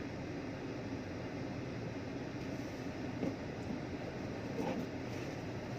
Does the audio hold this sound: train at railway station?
yes